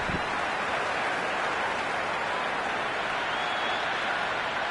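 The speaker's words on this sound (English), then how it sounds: "It's evident and ever so audible that the crowd is at near bursting point at today's play" Dense, steady roar of a cricket crowd cheering at a T20 World Cup match, a broad wash of noise holding loud and unbroken throughout with no voices standing out.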